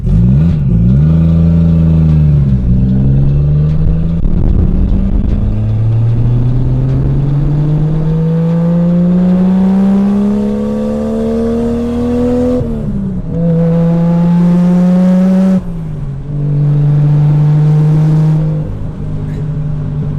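A Lexus IS300 with a swapped 1JZ engine, heard from inside while driving, the engine loud and close as it pulls up through the revs in long rising sweeps, with gear changes breaking each climb.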